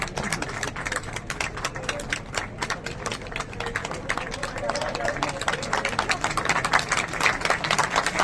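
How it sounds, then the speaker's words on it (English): Audience at an aviation award ceremony in India applauds steadily, a dense patter of many hands clapping under a voice speaking over a PA. "A hearty round of applause for AAI and for all the awardees"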